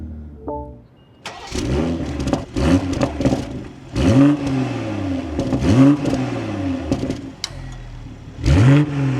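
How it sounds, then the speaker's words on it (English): A 2026 BMW M240i xDrive with a Supra-shared engine cranks and fires, then is revved several times, each blip rising and falling loudly and close by, with a steady idle between revs. "let's start this up. Take a listen to how the 240 sounds."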